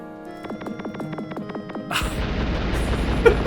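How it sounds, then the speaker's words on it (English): Retro game explosions in Wild Arms: a rapid run of about eight identical short bursts, then a louder, sustained noisy blast that rumbles on to the end, moderately loud with no talk. "Look at that photorealistic, identical set of explosions."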